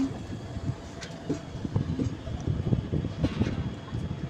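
Train running around a hill near Vellore, heard from on board: a rumbling, rattling wagon sound with irregular clanks and wind buffeting the microphone, steady and moderately loud throughout.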